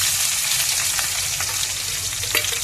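Sliced onions and green chillies crackle and sizzle in hot oil for a fish curry, a steady close hiss with no one talking.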